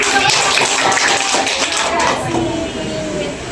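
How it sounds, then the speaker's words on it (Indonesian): Students in a classroom clapping their hands together in a dense, steady burst of applause that continues for a few seconds and eases slightly toward the end. "Iya, tepuk tangan dong."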